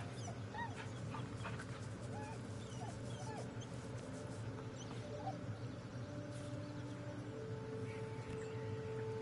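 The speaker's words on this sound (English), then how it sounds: "Must pet the doggo." Dog whimpering in the video game Baldur's Gate 3, several short high whines and yips scattered over a steady low background hum, fairly faint.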